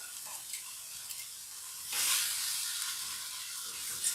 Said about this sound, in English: give this another stir here